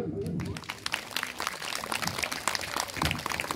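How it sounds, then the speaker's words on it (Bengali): Faint, scattered hand-clapping from a gathered audience at a rural anti-plastic awareness event, thin and uneven throughout. "তো একবার হাততালি দেবেন না?"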